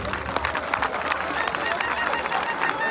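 A large audience applauds and cheers for Nigerian President Bola Ahmed Tinubu, a sustained wash of clapping with scattered louder claps and background crowd chatter.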